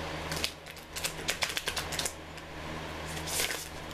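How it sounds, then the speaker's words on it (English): A deck of oracle cards being shuffled by hand, a run of quick papery riffles and flutters up close, followed by a softer rustle near the end. "Oh, these shuffle wonderful."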